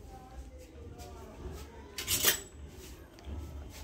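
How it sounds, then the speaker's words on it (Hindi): A spoon scrapes and rubs through bhelpuri ingredients in a bowl, with puffed rice, onion and other dry bits being tossed together, giving soft rustling, clinking and a louder scrape in the middle. "तो चलिए मैं मिक्स कर लेती हूँ इन सारी चीज़ों को अच्छी तरह से"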